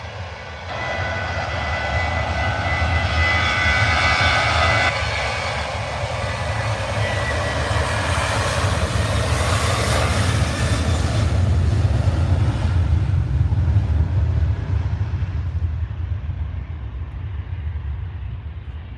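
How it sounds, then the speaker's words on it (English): Boeing 737 jet airliner on the runway at Manchester Airport, a loud, sustained engine roar with deep rumble and hissing jet noise that swells and holds for the whole stretch before easing slightly at the end. "Live at the side of the runway, Manchester. So 737 going to Turkey."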